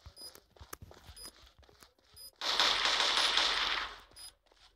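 Gunfire in the mobile shooter game Crossfire: a few scattered light clicks and footsteps, then a sustained loud burst of automatic fire lasting about a second and a half before fading back to quiet.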